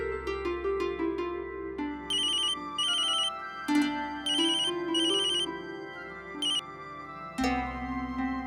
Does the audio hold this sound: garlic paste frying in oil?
no